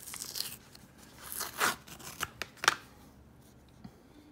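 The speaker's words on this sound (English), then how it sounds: "to rip really tough leather like this" Tough dyed leather of an Apple iPhone case being cut and ripped, a series of close, crisp tearing and snipping bursts with short pauses between them, heard alone.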